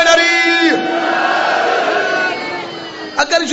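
Crowd at a majlis loudly shouting a slogan in unison, a sustained massed roar of voices that fades slightly before a brief final burst.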